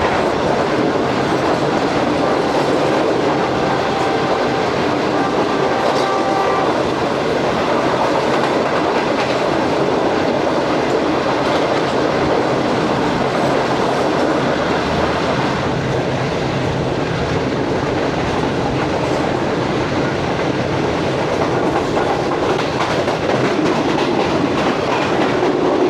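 Shalimar Express AC Standard passenger train in Pakistan rolling along the rails, a steady loud rumble with rhythmic clickety-clack of the wheels running throughout, no voices.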